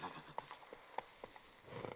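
Roach the horse's hooves clip-clopping at a walk in The Witcher, a faint, quiet series of soft, evenly spaced hoof beats on the ground with no speech.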